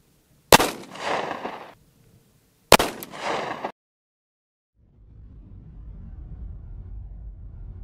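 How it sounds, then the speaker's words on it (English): A .45 Auto short-barrel pistol firing Speer 230-grain Gold Dot rounds at an outdoor range: two loud, sharp shots about two seconds apart, each with a short echoing tail, then a low steady rumble. "fire this same load through the same pistol, but with four layers of denim in place"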